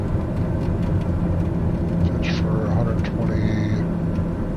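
A TBM 930 single-engine turboprop in Microsoft Flight Simulator 2020 drones steadily and loudly through its takeoff climb, a constant broadband engine roar with brief voices over it.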